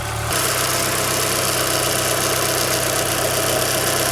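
A car engine idles with the hood open, heard up close after a brief quieter moment at the start. The idle runs as a loud, steady mechanical drone with a slight hunting unevenness.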